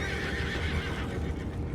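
Horses whinny and neigh in the Red Dead Redemption video game, a loud, continuous, close sound with hoof clip-clop mixed in and no speech.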